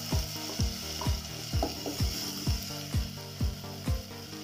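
Coarsely chopped tomato hits a pan of softened onion, ginger and garlic, giving a steady hissing sizzle under a regular thumping music beat, with no talking.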